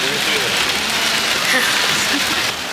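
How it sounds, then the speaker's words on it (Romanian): Heavy rain pours down at night in Hong Kong during a stormy week, a dense, steady hiss of drops hitting surfaces that covers the whole stretch and eases slightly at the end. "s-a pus o ploaie de toată frumusețea"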